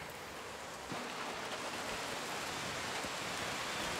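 Rain falls outdoors in a steady, even hiss that fills the whole stretch with dense patter, with no voices or other distinct sounds.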